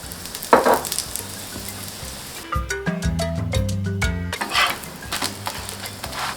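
Veechu parotta frying in oil on a flat pan: a bright hissing sizzle that dips in the middle while a few metallic pan clinks and scrapes ring out, then the crackling sizzle returns strongly.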